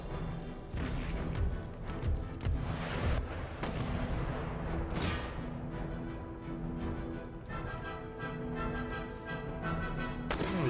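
Field artillery pieces firing during a siege in Empire Total War: scattered booms and crashes over about ten seconds, with irregular heavy reports and rumbling impacts under a continuous battle din.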